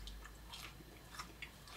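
Someone bites into and chews a Trinidad Scorpion Butch T chili pepper close to the microphone, a few soft, faint crunching bites over a steady background hiss, with no talking.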